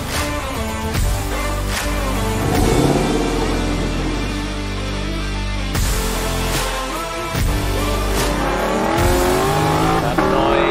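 A Lexus LC500 convertible with its top down on a race track, its engine roaring loud and close as it revs and drops through the gears of its 10-speed transmission, with blips on each downshift.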